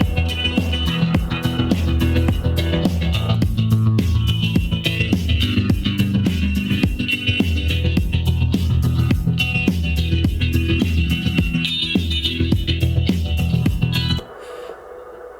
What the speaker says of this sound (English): trem is named after the effect preset in the M-Audio black box.